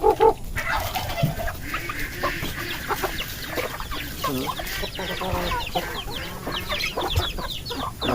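Pet alimukon birds waiting to be fed: a busy mix of clucking, chirping and cooing calls, fairly close and continuous, with a louder call at the very start.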